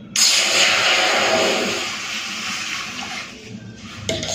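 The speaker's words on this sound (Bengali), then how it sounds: "গ্যাসে কড়াই বসিয়ে দিয়েছি, এরপর দিয়ে দিচ্ছি জল।" Water poured from above into a pan set on a gas stove, ready for boiling soybeans: a steady, close rushing splash that starts abruptly and gradually eases off toward the end, with no voices.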